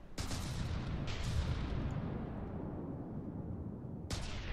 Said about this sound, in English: No, stop shooting at the thing that's already dead!